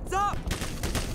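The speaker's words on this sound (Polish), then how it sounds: "Kto do nas strzela?" Gunfire in the Black Mesa game, a series of short cracks scattered through about a second of dense noise, following a brief tonal cry at the start.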